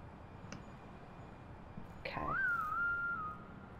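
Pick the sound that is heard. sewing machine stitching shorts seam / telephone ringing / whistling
whistling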